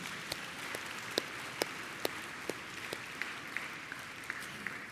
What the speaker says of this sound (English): So why don't we give you all an applause for that?